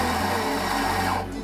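An espresso coffee grinder runs at close range, a loud, steady mechanical whirr with a strong hum that eases off slightly at the end.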